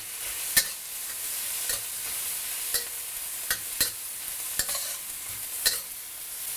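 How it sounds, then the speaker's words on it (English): Pineapple fried rice with white pepper being stir-fried in a pan, a soft continuous sizzle punctuated by a handful of distinct spatula scrapes and taps at irregular intervals. "And then get that all mixed up."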